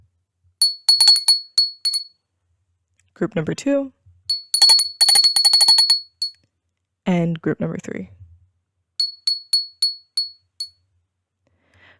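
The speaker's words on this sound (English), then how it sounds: "Okay, I'm going to ring the bell." A small bell with a bright metallic tone is rung in quick repeated strikes, in several short bursts. A person speaks between the bursts.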